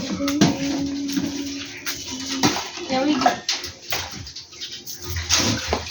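Water is poured into a tub to plant coriander, making splashy gushes and a few hollow clanks of the container, with people talking nearby.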